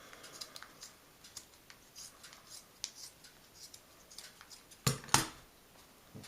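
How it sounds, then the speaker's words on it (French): Scissors cut through fabric in quiet, close snips, a run of small crisp clicks followed by two louder, sharper cuts near the end. "Découpe du tissu."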